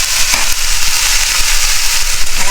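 Vegetables frying in a hot pan, a loud, steady close-up sizzle with crackling that hardly varies throughout, no voices.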